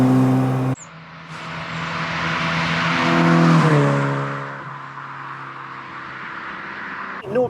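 Inside a Ford XR2 Mark II 1600 as it drives, the engine drones loudly and rises and falls through the gears, with strong road and cabin noise throughout and a sharp knock near the start.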